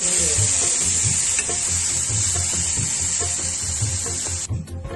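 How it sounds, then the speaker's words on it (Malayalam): Mustard seeds, curry leaves and dried red chilies tempering in hot coconut oil in a pan, giving a steady close sizzle with soft stirring scrapes and scattered pops before it cuts off near the end. "ചട്ടി അടുപ്പത്ത് വെച്ച് വെളിച്ചെണ്ണ ഒഴിച്ച് കടുകിട്ട് പൊട്ടി കറിവേപ്പില വറ്റൽമുളക് ഇട്ട് ഒന്ന് താളിച്ച് വഴറ്റിയെടുക്കാം"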